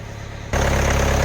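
A Kia Sorento SUV engine idles on a cold start with a steady low rumble and slight vibration, growing louder and fuller after a brief moment.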